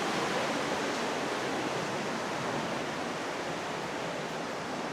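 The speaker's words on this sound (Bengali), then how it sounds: "পানির আওয়াজ পানি পানি নামতেছি" Water flows down inside a 330-metre-long cave in Perlis, a steady, soft, hissing rush that stays even and fairly faint throughout, with no voices.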